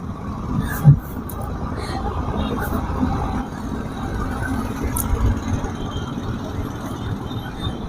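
Busy morning rush-hour road traffic around 8:30 with office commuters, a steady wash of car and truck engines idling and moving nearby, with one brief louder bump near the start and no talk.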